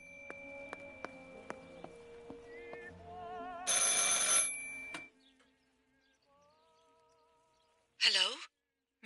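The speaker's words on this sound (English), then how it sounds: "I should pick up the phone but remain silent." A telephone in the game Martha Is Dead rings in a classic bell trill, two loud bursts separated by quieter electronic tones and musical sounds, with no talk over the rings.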